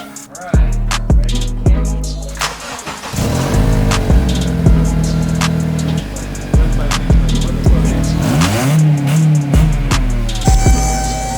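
A loud 2008 Acura TSX engine revving hard in repeated bursts, with a raw, rumbling exhaust note from a flex pipe and muffler delete rising and falling close by.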